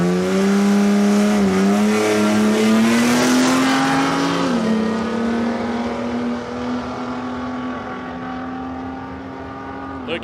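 A drag racing car, a little Ford Cortina, roars loud and close at full throttle, its engine note climbing steadily then holding a sustained high drone as it accelerates away down the strip, with a faint voice underneath.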